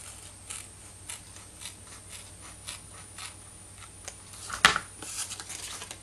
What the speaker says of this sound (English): get some scissors. I'm just going to trim that piece off.